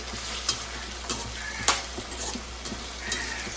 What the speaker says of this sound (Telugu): ఇవి ఆయిల్లో ఫ్రై అవ్వాలి